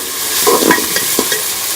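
Chana pulao ingredients, including green chillies, sizzling in a pan while being stirred: a short burst of loud frying hiss with a few quick scraping strokes, no speech.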